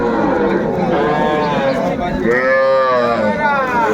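Loud, close moos from young bull calves, several drawn-out calls overlapping amid a busy crowd murmur of people talking nearby at a cattle market in Ambari, Dinajpur, Bangladesh.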